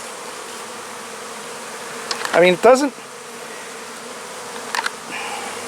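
Honeybees buzz around a hive landing board dusted with pollen, a couple of brief louder passes close by over a steady outdoor hum, with a few words spoken softly.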